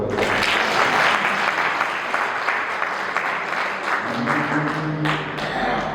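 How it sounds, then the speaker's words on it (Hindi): An audience at a Hindi poetry recital breaks into sustained, dense applause that stays loud and even for about six seconds, then tapers slightly near the end. "ताली बजा दो।"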